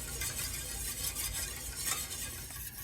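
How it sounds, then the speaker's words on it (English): Milk sauce for a sunlight soufflé being stirred as it heats in a pan, a continuous close scraping and swishing with a soft simmering hiss underneath. "we're a couple minutes into our 10 minutes of stirring. The milk is heating up"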